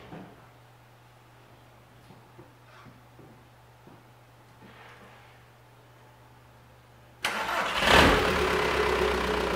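A car with an ALH diesel engine cranks and starts after the injection pump timing is adjusted, catching abruptly after several seconds of quiet clicks and settling into a loud, steady idle.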